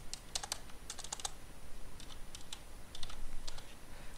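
Someone types a server IP on a computer keyboard: quick, light key taps in short bursts with brief pauses between, close and steady with no talking.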